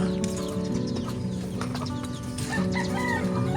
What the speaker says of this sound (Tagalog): May mga alaga silang manok.